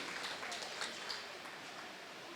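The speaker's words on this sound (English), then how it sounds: "And a big round of applause to everyone here for the lovely job that they do." At a Bhajan Samaj Ghatkopar Ramanavami celebration, an audience gives a round of applause, with a busy patter of claps that peaks early and then thins slightly. Faint voices mix in underneath.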